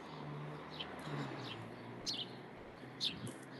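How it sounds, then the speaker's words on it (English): Birds chirp faintly in the morning outdoors, a few short scattered tweets over a steady low background hum. "Birds are chirping."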